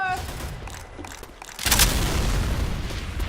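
A Boomer zombie explodes during Left 4 Dead 2 gameplay on the custom Half-Life 2 Highway 17 campaign. Quieter game sounds come first, then a sudden loud blast swells into a sustained roar of noise that is dense like gunfire.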